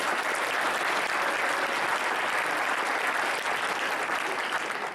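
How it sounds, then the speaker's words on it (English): An opening-ceremony audience at the Hack Arizona 2016 hackathon applauds steadily, a dense wash of many hands clapping at even loudness for about five seconds with no talking over it. "Let's give a round of applause."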